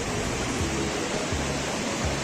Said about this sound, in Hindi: ये नारायण की साइड से आ रहा है ये पानी, और काफ़ी तेज़ पानी आ रहा है और शोर आप सुन भी रहे होंगे।